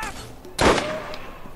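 Single sharp gunshot from a sniper rifle in the video game Borderlands, a loud sudden crack with a brief ringing tail, set against quiet game ambience.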